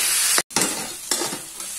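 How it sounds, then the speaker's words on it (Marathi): Onion and potato sauté in hot oil for kande pohe, giving a steady sizzle broken by a few scraping stirs of a spatula in the pan, close and fairly loud. "अशा प्रकारे 2 मिनिटं व्यवस्थित हलवून हे चांगलं कांदा बटाटा परतून घ्यायचं आहे"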